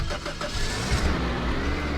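A truck engine starting up in the Roblox game Lumber Tycoon 2, a dense, steady mid-range rumble that holds at an even loudness with no talk over it.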